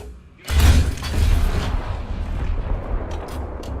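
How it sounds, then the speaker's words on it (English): A deep explosion goes off in War Thunder, a sudden heavy boom followed by a long rumbling roar that slowly fades, with faint crackles trailing behind. "I think that's an improved explosion"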